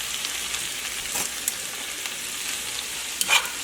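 Peppers hit a hot pot and sizzle steadily, a close frying hiss with a few sharper crackles and stirring clatters, and no talk.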